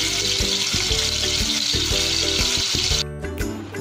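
Marinated chicken pieces shallow-frying in a small amount of oil in a pan for butter chicken, giving a steady, loud close-up sizzle with broadband crackle that drops slightly near the end, with rhythmic low clatter throughout.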